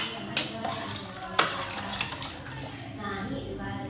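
Food with a pinch of salt is stirred in a pan, with a couple of sharp metallic clinks of a spoon followed by softer scraping and faint sizzling, close and fairly quiet.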